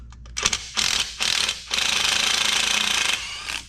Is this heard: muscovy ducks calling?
no